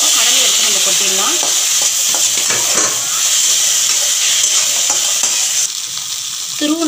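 Boiled chickpeas tossed into a pan with curry leaves and asafoetida and stirred for chickpea sundal, giving a steady close sizzle with spoon scrapes throughout.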